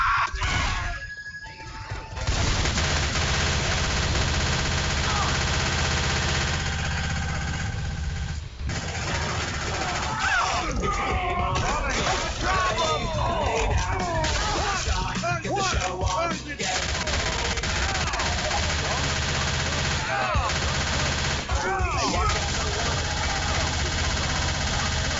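Bursts of rapid gunfire aimed at zombies in a shooter game, crackling repeatedly over a dense, noisy mix of game sounds, with scattered voices and shouts around it.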